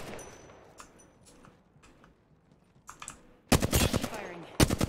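Gunfire from the Apex Legends video game, with scattered distant shots early on, then two loud bursts of rapid automatic fire close by near the end.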